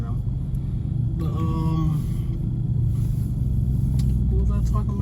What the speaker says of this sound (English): They don't hear my loud ass car right in front of them.